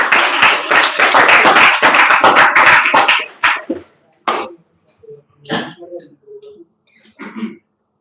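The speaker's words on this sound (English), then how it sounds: "Let's give a huge round of applause for Madhuri" Applause from a small English-class audience greeting a student speaker named Madhuri, a dense burst of many hands for about three seconds, then tapering into scattered claps, a cough and light talk.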